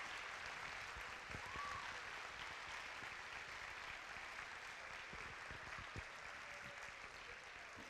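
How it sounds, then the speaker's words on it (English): Audience applause at an ambassador coronation event, a sustained spatter of clapping from a modest crowd, fairly faint and distant throughout with no voices over it. "Let's give all these wonderful ladies a big round of applause."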